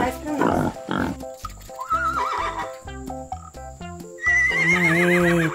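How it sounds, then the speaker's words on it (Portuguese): A toy farm horse, a mare, gives several loud synthetic neighs and whinnies with wavering pitch, mixed with bright electronic toy tones and a steady high whine, closest and loudest near the end. "Uma égua."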